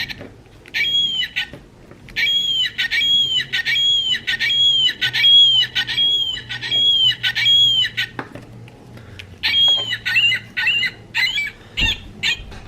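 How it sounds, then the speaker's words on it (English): Electronic ring-billed gull calls from a Wild Republic bird plush toy, a rapid run of sharp squawking cries repeated in bursts, loud and close, with a short pause before a final series. "Ring-billed gull."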